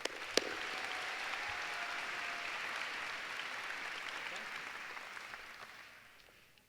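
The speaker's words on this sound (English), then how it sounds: "if we could give Dr. Feder and Miss B one more round of applause, that would be wonderful." Applause fills a convocation hall, a steady wash of many hands clapping together that starts with a sharp clap and gradually fades out toward the end.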